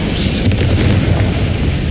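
Incendio fire spell cast in the video game Hogwarts Legacy: a loud, sustained booming roar of flame with heavy low rumble that holds steady for about two seconds, no voices.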